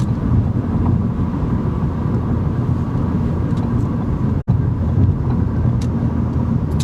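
Steady low road and engine rumble of a car heard from inside while driving, loud and continuous with a little wind noise and one brief dropout partway through, no talking.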